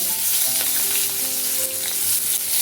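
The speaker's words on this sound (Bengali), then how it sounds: "এবার দিয়ে দিচ্ছি কয়েকটা কাঁচা লঙ্কা চেরা" Slit green chillies dropped into hot oil with turmeric and whole cumin, crackling in a loud, continuous close-up sizzle, with no voices.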